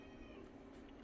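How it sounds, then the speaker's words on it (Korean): A pet cat meows briefly in a home kitchen while anchovy salad is being made, a single soft, close call over low room hum. "우리 고양이가 그냥 뭐 말을 잘하는 애가 있어요"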